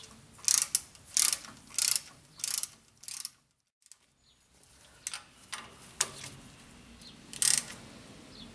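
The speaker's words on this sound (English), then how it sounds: "Go ahead and torque it down nice and snug." A ratchet clicks in several quick bursts while a tie rod end nut is torqued down on a 2005 Ford F250. The bursts are separated by short pauses, with one long gap midway, and sound close, crisp and mechanical with no talking.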